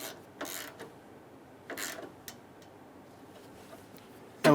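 A ratchet tightens an AC line bolt on a 2003-2008 Honda Pilot, giving a few faint, close clicks in two short bursts over quiet background before a sharp knock at the end.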